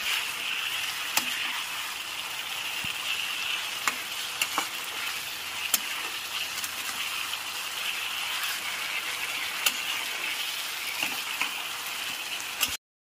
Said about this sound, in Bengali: ফ্লেমটা হাইতে করে খুব ভালো করে 3 থেকে 4 মিনিট ধরে মাংসগুলোকে কষিয়ে